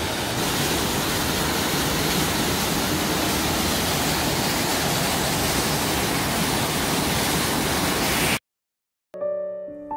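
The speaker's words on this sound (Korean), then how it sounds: "다음은 강원도 삼척 엉봉산 덕풍계곡에 있는 수심 40m의 용토폭포를 보시도록 하겠습니다." Yongtu Falls in Deokpung Valley, Samcheok, Gangwon, pouring into a 40 m deep pool as a loud, constant broadband roar of falling water that cuts off abruptly near the end, followed briefly by music.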